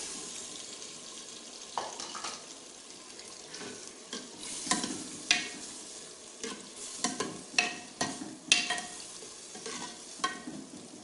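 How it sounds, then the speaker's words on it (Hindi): Beef liver sizzles and is stirred in a pan of soft cooked tomato masala. Steady frying hiss runs throughout, with irregular scraping and stirring clatters that are close but moderately quiet, and there is no talking. "अभी टमाटर हमारे तकरीबन गल गए हैं, तो अभी इसके अंदर हम ये कलेजी डालेंगे।"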